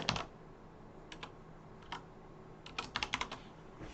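Code being typed on a computer keyboard: quiet, close key clicks in short irregular bursts, with a quicker flurry of keystrokes near the end, no talk.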